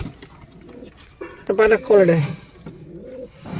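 Pigeons in a loft give soft cooing calls, briefly rising in the middle, mixed in with someone talking nearby.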